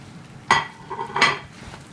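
Tomatoes being stir-fried in a pan for shrimp macaroni, two distinct utensil scrapes and clinks against the pan about a second apart over a faint sizzle.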